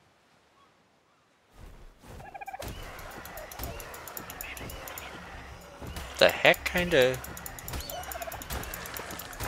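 In the ARK video game, a turkey gobbles in bursts over steady game ambience, with someone talking throughout.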